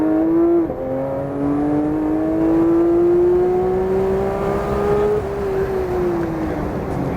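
Porsche on a race track accelerating hard, its engine note climbing steadily through the gears with one brief dip as it shifts, loud and close throughout with no talk over it.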